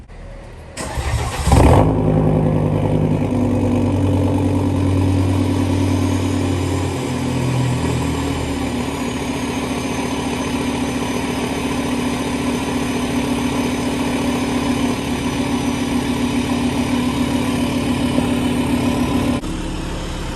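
A car coming out of a month of winter storage cranks briefly, catches and settles into a steady, loud, close idle that runs evenly, with no one speaking.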